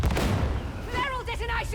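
Grenade blast in Warhammer 40,000: Darktide, a dense low boom layered with gunfire and combat noise, followed by a voice calling out.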